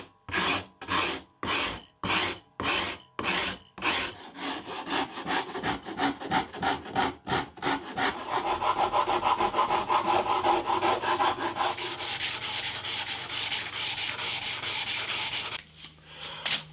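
A wooden neck for a hollow body guitar is shaped by hand. Distinct rhythmic rasping strokes come first, then they quicken into dense, continuous sanding and filing close up.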